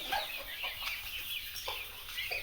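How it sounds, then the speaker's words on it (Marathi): Farm turkeys in an enclosure on an agro farm, giving soft clucking and gobbling calls at a moderate distance with no talk. "या कंपार्टमेंटमध्ये जर तुम्ही आला तर इथं टर्कीचा सेक्शन असतो."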